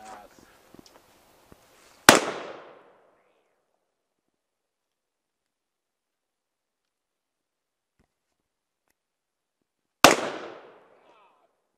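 Two very loud, sharp single gunshots from a Smith & Wesson 500 revolver, about eight seconds apart, each with a short decaying echo. Faint murmuring and small handling noises come before the first shot.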